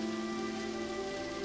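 Steady rain falls, a soft even hiss of drops on surfaces beneath a faint sustained tonal hum, with no voices.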